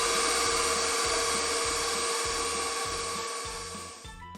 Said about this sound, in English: while the mixer is going, we're gonna add our ingredients